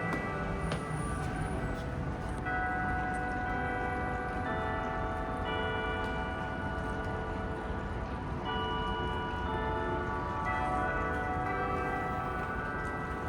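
Church bells ring on and on, their sustained overlapping tones sounding moderately quiet and a little distant, without any talk.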